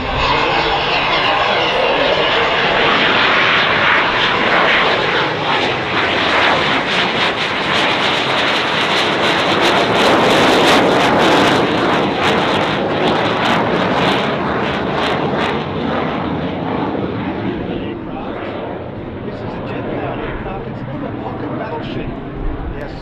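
A Cessna A-37 Dragonfly jet flies at the Australian International Airshow. Its loud, sustained engine roar dominates throughout and eases slightly toward the end, with voices faintly audible beneath it.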